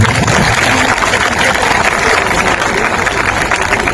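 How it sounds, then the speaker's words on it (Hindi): A crowd claps steadily at a Jan Suraaj Party political rally speech, producing a dense, loud, continuous wash of applause with no pauses. "ताली बजा दीजिए"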